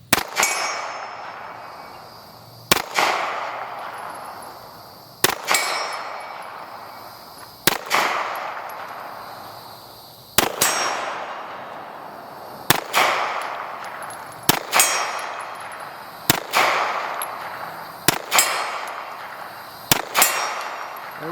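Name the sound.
gunshots from .45 and 460 Rowland handgun rounds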